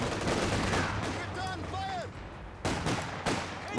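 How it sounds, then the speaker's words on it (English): Double mortars fire in a Company of Heroes 2 4v4 tournament battle, sending several muffled booms and rumbling impacts into busy battlefield noise, with whistling shells and a voice talking over it. "Double mortars are now opening up."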